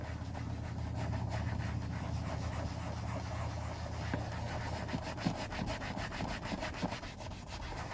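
A mild scuff pad scrubbing the vinyl interior of a 1982 Mercedes 240D with a steady, close rubbing sound that grows into quick rhythmic back-and-forth strokes toward the end.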